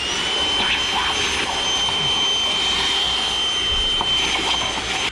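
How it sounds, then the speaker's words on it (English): A Milwaukee handheld vacuum cleaner runs steadily in a shop with a loud, high-pitched whine and airy rush that holds constant throughout, close to the listener. "Get the old Milwaukee handheld vacuum here."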